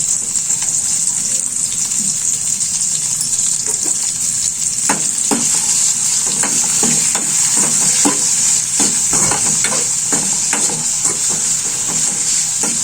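Tomato pieces frying in hot oil in a pan for a potato palya, a loud steady sizzle with scattered crackles and stirring scrapes throughout, close and continuous.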